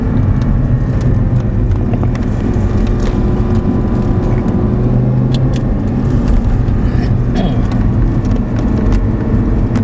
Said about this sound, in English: Gas it up, gas it up, gas it up, shift up to third, a little more gas, just ease into it